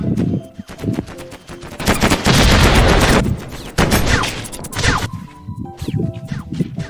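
Rapid bursts of gunfire hammer a gun turret in the block-building game Mini World, loud and dense with crashing impacts, swelling into a sustained barrage midway before breaking into scattered shots.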